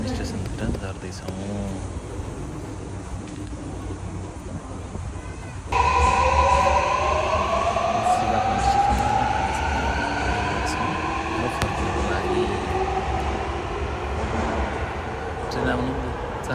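At a Tokyo railway station a train arrives, its rumble swelling midway into a loud rolling roar with rising wheel and motor tones, while people talk nearby.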